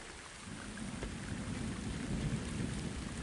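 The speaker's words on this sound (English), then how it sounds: "it started raining" Steady rain falling in Laos, a dense broadband hiss with a low rumble underneath, continuous and even throughout with no voices.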